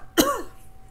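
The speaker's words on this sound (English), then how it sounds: "I end up getting these coughing attacks during this time of my reading" A single sharp throat-clearing cough bursts out up close, followed by a brief rasping tail.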